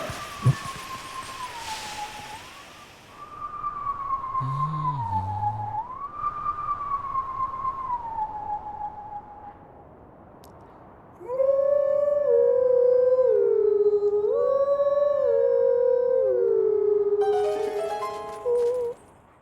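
Link in wolf form in The Legend of Zelda: Twilight Princess howls a melody for the howling minigame, long wavering tones rising and falling, then a louder, fuller second howl with harmonies, alone.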